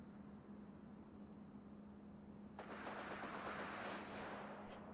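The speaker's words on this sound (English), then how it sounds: "There's automatic gunfire out there." Automatic gunfire in a video game, very faint and distant, with a burst of rapid crackling shots rising about halfway through over a steady low hum.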